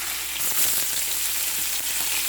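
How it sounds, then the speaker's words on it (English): Ginger strips and spices sauteing in a kawali cooking pot give off a steady, close sizzle of hot oil with faint stirring scrapes, no voices. "I like to saute the ginger first so that it will become a little bit of crunchy or toasty."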